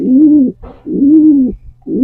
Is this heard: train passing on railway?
no